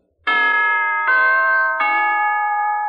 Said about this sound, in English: Now, here's a holiday wish from the NBC Chimes.